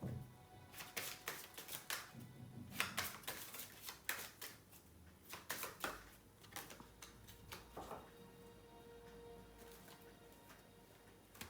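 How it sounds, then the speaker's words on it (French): A deck of cards is cut and shuffled, heard as faint, quiet bursts of papery riffling and soft slaps scattered across the stretch, with a low hum beneath. "Je vais reprendre le paquet homme et refaire une coupe sur ce paquet-là"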